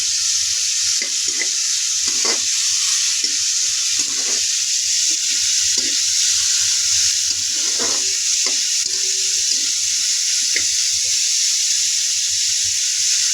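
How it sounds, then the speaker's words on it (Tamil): Onions sauté in an oiled pan for a village-style crab gravy: a constant loud sizzling hiss with repeated soft scraping stirs and occasional clinks from a spatula, close up and with no talking. "வெங்காயத்தை சேர்த்து இதை நாங்கள் லைட்டாக வதக்கி கொள்ளுவோம்"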